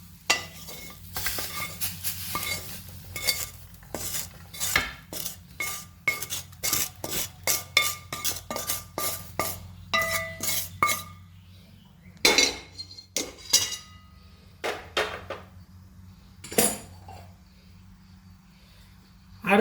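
Soybean bhaji with chickpea flour being moved from a pan onto a plate with a metal utensil: a quiet run of repeated scrapes and sharp clinks, with short pauses between bursts and no talking.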